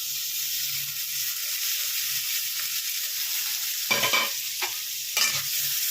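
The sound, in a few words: rice with cashews and raisins frying in oil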